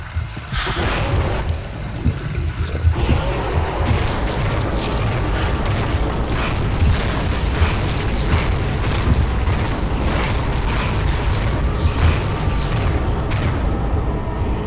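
Loud, continuous game combat with repeated booming explosion bursts in the first-person shooter Painkiller Overdose, dense blasts and gunfire-like pops filling the whole stretch without pause.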